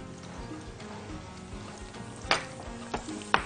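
Rice and chicken stuffing sauté in a pan with a close, steady sizzle, broken by a few sharp clacks and scrapes of stirring; nobody speaks.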